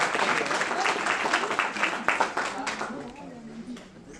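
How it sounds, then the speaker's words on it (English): An audience at a conference gives a short round of clapping that fades out quickly. A voice talks over the applause. "A big applause for the ladies who did this."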